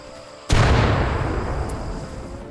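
In the video game Rimworld, a sudden, loud crack of thunder from lightning bursts out and rolls into a long rumbling decay, following a moment of quiet ambience.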